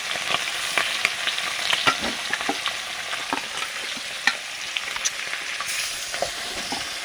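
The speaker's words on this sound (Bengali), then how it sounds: "মাছ ভাজা চাপানো হচ্ছে" Fish frying in a pan during an overnight camp-house stay, giving a steady loud sizzle with scattered sharp crackles and pops throughout, with no voices.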